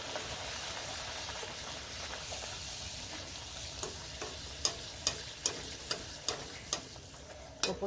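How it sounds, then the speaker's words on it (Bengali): Palm fruit luchi frying in hot oil, a steady soft sizzle with a series of regular sharp taps or clinks toward the end. "দেখেন আবার আমি তেলের নিচে দিয়ে দিলাম"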